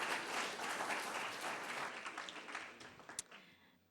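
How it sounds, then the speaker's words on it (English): An audience at a candidate forum for city council claps together, a dense, fairly soft wash of applause that thins out into scattered individual claps toward the end, with no talk over it. "let's give them a round of applause"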